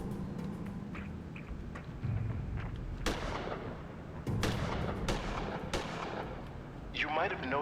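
Gunfire at a target range in the sci-fi adventure game Gemini Rue, with several sharp broadband shots spaced unevenly over a constant background hum and some game voice or sound effects.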